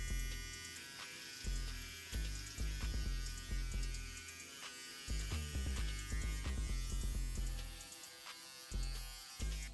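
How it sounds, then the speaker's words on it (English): An electric shaver buzzes on the sides of a low taper haircut, its motor hum starting and stopping in short repeated passes with a steady mains-like drone, fairly quiet and with no talking. "another thing you could do is use your shaver and then just use it on the sides."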